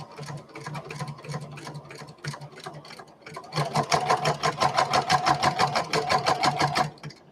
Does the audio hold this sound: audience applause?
no